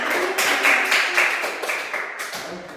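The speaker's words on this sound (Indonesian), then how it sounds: "Tepuk tangan buat kita" A classroom group claps together during a microteaching lesson, a dense, steady patter of hands lasting a few seconds before tapering off.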